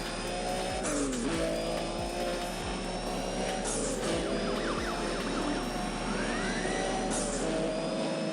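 A Nissan Skyline R33 fitted with a Rhino engine races in Need for Speed World, its engine droning continuously with rising and falling revs and periodic gear-shift dips, alone without talk.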